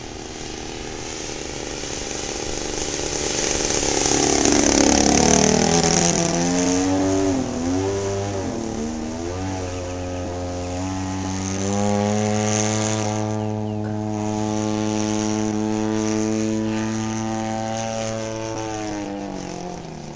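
A Kangke Extra 330 RC aerobatic airplane's engine buzzes through the air on its first flight at Simsbury, the pitch rising and falling in sweeping glides as the plane passes and maneuvers, moderately loud throughout.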